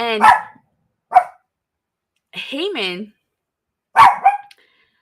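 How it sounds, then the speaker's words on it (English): A dog barks several times close by, sharp single barks with gaps between them, alongside someone speaking briefly. "I do apologize for the barking."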